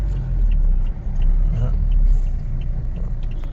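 Car traffic on a street in New Delhi sounds like a loud, continuous low rumble of engines and tyres, heard close up with a slight dip partway through.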